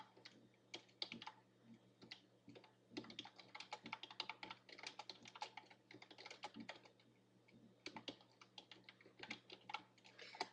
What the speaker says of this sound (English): I'm just going to go ahead and type that in.